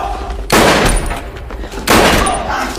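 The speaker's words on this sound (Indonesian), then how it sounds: "aksi baku tembak dan baku hantam pun terjadi" Gunfire from an action film fight scene in a gangster hideout corridor: two sharp, loud bursts of shots, each followed by a short ringing decay.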